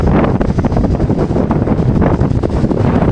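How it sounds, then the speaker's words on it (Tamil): Strong wind blowing at a jamun fruit tree, a steady loud roar of gusts buffeting the microphone with constant rumbling noise throughout and no speech. "பயங்கர காற்று அடிக்குது, வீடியோவே எடுக்க முடியாது போல இருக்குது, அந்தளவுக்கு காற்று அடிக்குது"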